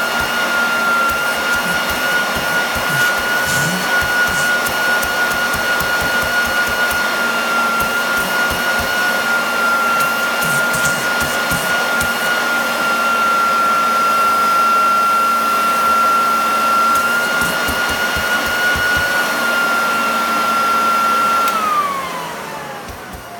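A Royal all-metal upright commercial vacuum cleaner runs with a loud, steady motor roar and a high whine, then switches off near the end as the whine drops away.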